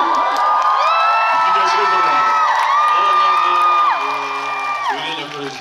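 An audience at a cinema live talk for the film Money at CGV Yeongdeungpo cheers and whoops loudly, with high excited shouts, then fades as a voice begins speaking over the crowd.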